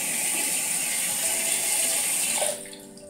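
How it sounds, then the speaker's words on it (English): Tap water runs steadily as a face cleanser is rinsed off at a sink, a loud continuous splashing rush that cuts off abruptly near the end, leaving a faint quiet tail. "Now we're gonna rinse our face."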